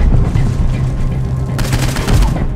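Loud, rapid gunfire rattles in the Saints Row 4 video game, a dense burst of shots that swells again toward the end, with no talk over it.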